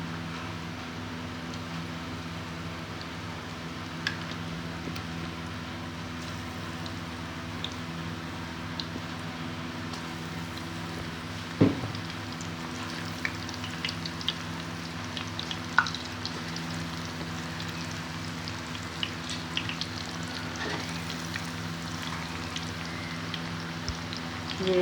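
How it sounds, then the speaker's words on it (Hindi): Potato pakoras frying in hot oil, a steady soft sizzle with scattered pops and crackles, constant and close throughout with a faint hum underneath. "ये मेरा ये अब गर्म हो चुका हुआ है। ये मैं इसमें पकौड़े डालना शुरू कर रही हूँ।"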